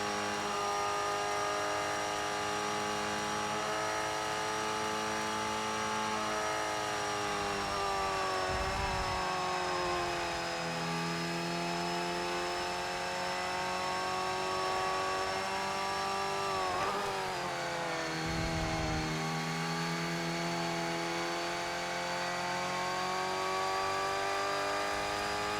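A Formula Ford race car engine in ToCA Race Driver 3 drones steadily at high revs, with its pitch sliding and dipping at two gear changes partway through and a low thump at each shift, with no talk.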